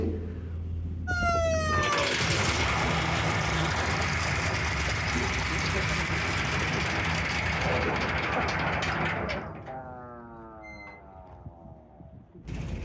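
A ship's engine drones steadily as the vessel slows to a stop near Sandwip, with a loud, continuous rumble that eases off toward the end and a rising mechanical whine at the start.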